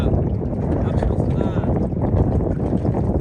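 A small rowboat crossing the wide Amu Darya river, with a loud churning rush of water and wind buffeting the microphone nearby.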